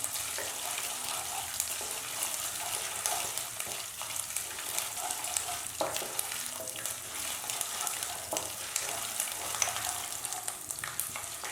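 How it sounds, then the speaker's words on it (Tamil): Coconut pieces frying in oil while being stirred for a spicy red rice kozhukattai, a steady crackling sizzle with scraping spoon strokes throughout, close and fairly loud with no talking. "இப்போ இதெல்லாம் நல்லா மிக்ஸ் பண்ணி விட்டு தேங்காய் நல்லா எண்ணெயிலே பொரியட்டும்."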